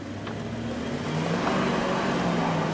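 Dodge Ram 1500 pickup with a history of sputtering, misfires and stalling revs its engine while pulling away, a smooth, rising mid-pitched drone that stays loud and close for a few seconds, with no talking.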